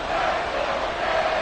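A football stadium crowd at a 49ers at Dolphins game roars in a steady, continuous wash of cheering with no clear pauses, loud and sustained throughout.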